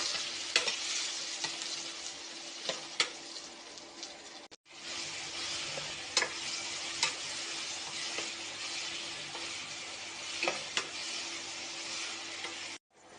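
Tomatoes sauté with rock salt on an induction stove for a spicy kara kuzhambu, a steady sizzle broken by repeated spoon scrapes and stirs, a brief pause near the middle, no voices.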